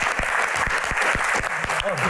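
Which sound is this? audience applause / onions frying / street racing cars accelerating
audience applause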